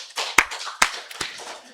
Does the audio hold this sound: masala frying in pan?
no